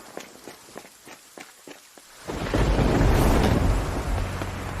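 Heavy night rain in an animated series sets in suddenly after a few sharp taps, then becomes a loud, dense, continuous downpour with a low rumble beneath it.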